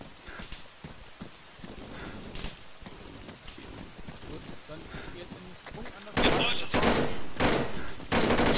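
Gunshots in the video game Arma 3 ring out as a burst of loud, rapid cracks near the end, following scattered quieter shots and movement sounds, with voices talking over the action.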